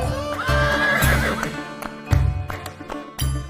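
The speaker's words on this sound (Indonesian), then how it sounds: "Dengan semangat, Hussein terus mengajak saya berkeliling menunggang kuda-kuda miliknya." Horses neigh and whinny loudly and close by during a ride, with hooves clip-clopping in short bursts between the calls; no voices.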